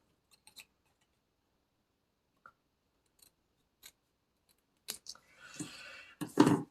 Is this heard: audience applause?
no